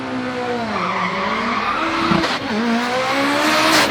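A black Mitsubishi Evo race car at a street drag event screams hard and close, its engine note dipping and climbing through quick shifts, with a sharp burst midway amid tire squeal.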